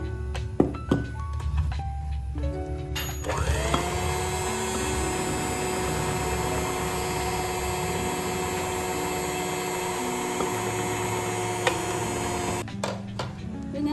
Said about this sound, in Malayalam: ഹാൻഡ് മിക്സർ വെച്ചിട്ട് തന്നെ ജസ്റ്റ് ഒന്ന് ബീറ്റ് ചെയ്തെടുത്തിട്ടുണ്ട്